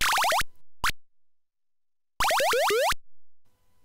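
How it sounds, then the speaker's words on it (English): Zap sound effects from a ZX Spectrum video game: a rapid run of descending pitched zaps, a short blip, then a second cluster of falling zaps, loud and alone against silence. "Sound is a bit limited, with only a few zaps when something happens"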